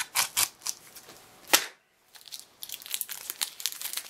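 Plastic wrap on a video game case being cut with scissors and crinkled, giving a run of sharp crackles, a brief pause, then a busier stretch of close crinkling with no talk.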